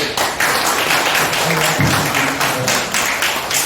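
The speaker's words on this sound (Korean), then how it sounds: "다시 한번 박수로" An audience at a Korean academic conference session on Korean Peninsula unification and security applauds, a dense, even patter of many hands clapping that fills the hall for several seconds.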